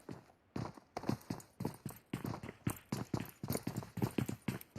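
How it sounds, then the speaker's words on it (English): Rapid footsteps in a Clatter of Clans tournament match, a steady run of sharp, close steps that pause briefly and then carry on at a brisk, even pace. "Kiddo is patiently listening to the footsteps"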